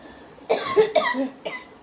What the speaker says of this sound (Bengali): সেই কাশি।